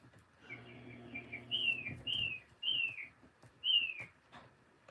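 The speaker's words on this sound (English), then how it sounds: "you can hear we have a beautiful little bird in the background here" A small bird chirps in the background in Florida, giving four or five clear, descending whistled notes at an even pace over a low, faint hum.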